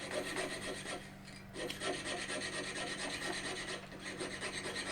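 Steady rasping strokes of a file on metal stock while shaping a Damascus folding knife, a continuous close scraping rhythm with a brief pause near the middle.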